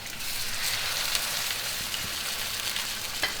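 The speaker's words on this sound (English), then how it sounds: "Now cook on one side, after turn, and I cook on the other side." Pork chops fry in a pot over a medium flame, giving a continuous close sizzle with crackling pops and occasional sharper spits, steady throughout with no talking.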